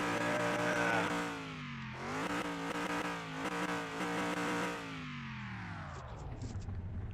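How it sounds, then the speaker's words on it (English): A salvaged car engine revs repeatedly in a repair-and-resale video game, rising and falling in several loud sustained pulls before easing down to a rough idle, heard close and alone. "Hear that engine roar."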